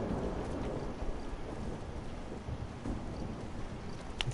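A thunderstorm from The Last of Us video game: steady rainfall with low rolling thunder at moderate volume and a few sharper cracks near the end.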